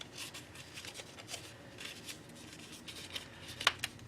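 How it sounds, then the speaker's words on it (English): Strips of paper are folded back and forth into a fan shape and pressed to crease, giving soft rustles and crinkles with a few sharper creasing snaps near the end. "You just want to go back and forth, folding it into a fan shape, and press together every so often to really crease those fold lines."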